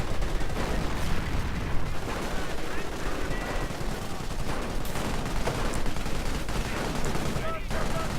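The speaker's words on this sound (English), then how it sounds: "Heavy machine gun commandos moving in with the Vickers, ready to suppress those dastardly Stormtroopers." Vickers heavy machine gun fire in a video game battle against Stormtroopers, dense, continuous automatic bursts mixed with other gunfire and explosions, loud and sustained throughout.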